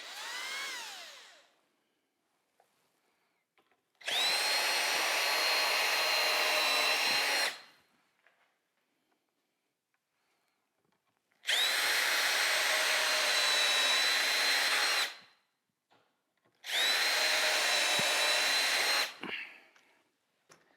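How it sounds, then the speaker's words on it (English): A power drill fitted with a Vix self-centering bit whirs in three separate bursts of a few seconds each while holes are drilled for drawer hardware, each burst starting and stopping sharply, with quiet gaps between and no talk. "Then take yourself a Vicks bit and that'll center the hole."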